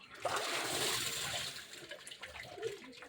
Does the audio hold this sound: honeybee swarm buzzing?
no